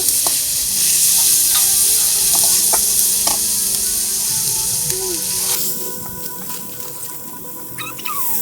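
Garlic paste frying in a pan for a village-style leafy greens dish, giving a steady, close, bright sizzle with occasional utensil clinks as it is stirred, the hiss thinning toward the end.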